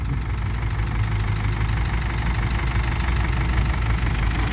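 A six-wheel dump truck's diesel engine idles close by with a steady, loud, knocking rumble that never changes pace, and no voices are heard.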